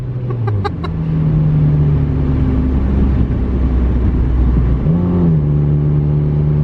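A cheap $400 beater car with a four-speed automatic accelerates hard at wide open throttle. The loud engine drone climbs and drops at each gear shift, close and continuous, with no talking.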